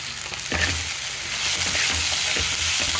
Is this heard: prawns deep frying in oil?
yes